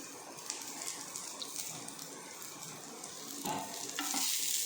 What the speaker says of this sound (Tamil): ஒரு ஸ்பூன் நெய் ஒரு ஸ்பூன் கடலெண்ணெய் ரெண்டே ரெண்டு சோம்பு மட்டும் போட்டுக்கலாம்